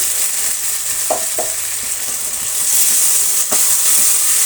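Sliced onions and freshly ground masala paste fry loudly in a pan, a strong continuous sizzle with a few brief stirring scrapes and bursts, close up and with no voices.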